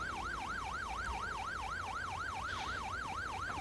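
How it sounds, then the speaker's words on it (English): An ambulance siren from the video game GTA 5 wails in a fast, regular rising-and-falling cycle, loud and continuous throughout, with a faint road-vehicle rumble beneath. "near this noisy-ass ambulance."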